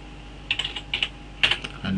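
Keys clatter on a computer keyboard in two quick, close bursts of several taps each, crisp and fairly loud, with no talk over them.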